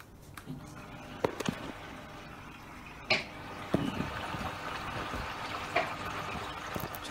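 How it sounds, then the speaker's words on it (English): Hot water pours into a newly installed washing machine, producing a faint, continuous watery rush broken by a few brief clunks and knocks, with no voices. "So the washing machine is now filling up with hot water."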